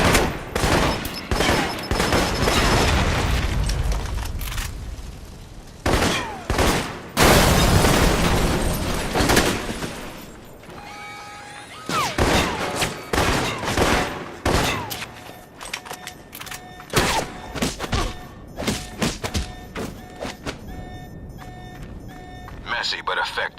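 Gunfire in Alpha Protocol's Operation Desert Spear mission: dense volleys of shots and sharp bursts, with occasional booms, loud and continuous, while voices speak between and over the shooting.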